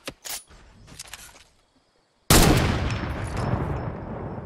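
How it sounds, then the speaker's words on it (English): Gunfire in the video game Fortnite: a couple of short sharp bursts, then after a brief near-silence one loud blast that rolls into a sustained, fading noisy tail. "Let me shoot you now."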